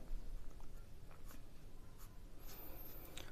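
A pen writes an answer by hand on paper during a Class 6 maths exercise, giving a soft continuous scratch with brief strokes and taps, close and quiet, without speech.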